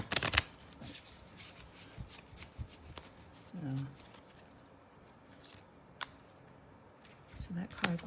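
Tarot cards shuffled by hand during a card reading make a rapid papery riffle and patter, close and fairly quiet, with brief soft vocal sounds in between.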